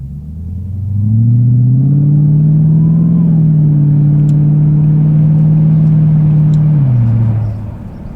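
A car drives along the road, its low engine drone swelling after a second, holding steady and loud, then easing off near the end.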